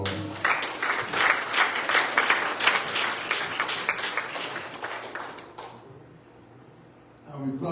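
A congregation at a church service claps hands together in a loud, lively burst that continues for several seconds and then dies away into near quiet before a faint sound returns at the end.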